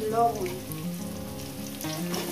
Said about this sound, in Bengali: আলুগুলোকে আমি সুন্দর করে লাল লাল করে মিনিট 3-4 ধরে ভেজে নেবো।